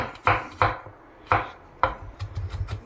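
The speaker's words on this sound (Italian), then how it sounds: "facciamo un battuto sottile sottile" Knife finely chopping freshly picked garden garlic on a board for a battuto, the filling for meat-stuffed zucchini; about five sharp, close chops at an uneven pace, then quicker, lighter taps.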